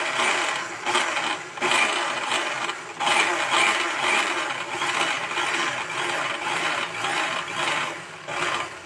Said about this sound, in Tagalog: Tapos i-blend na natin.